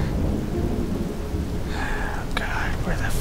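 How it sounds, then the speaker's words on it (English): Rainfall in the video game Morrowind, a dense, steady hiss of rain with a low rumble beneath it, loud and continuous throughout. "Now starting to rain."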